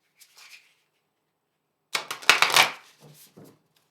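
Oracle cards being shuffled by hand: a faint brief riffle, a pause, then a louder crisp burst of flicking cards followed by a few softer taps as the deck settles.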